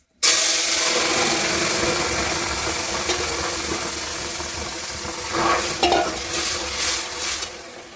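Dried red chillies, bay leaves and cumin seeds sizzle steadily in hot oil while being stirred, a loud close frying hiss with spoon scrapes and bursts of crackle, no talking.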